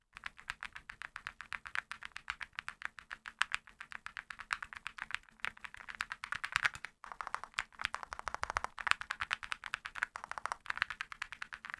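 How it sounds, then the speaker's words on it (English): Rapid, steady clacking of a mechanical keyboard fitted with heavy metal Noctua keycaps, close and crisp, with dense keystrokes running continuously and only a brief pause midway. "Listen to the creamy keys here."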